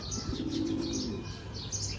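A Ferozpuri pigeon gives a soft, low coo near the start, with faint chirps and light wing or body rustling around it, close and without speech.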